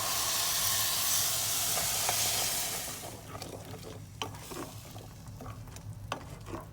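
Tomato puree hits a hot pot of wilted leaves with a loud, broad hiss that fades after a few seconds into quieter bubbling and stirring clicks.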